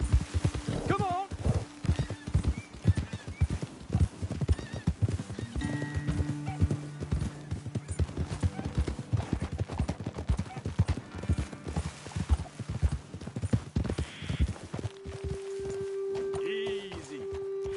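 Horses in a video game clip-clop steadily at a walk with a couple of whinnies, under intermittent game dialogue and ambient music.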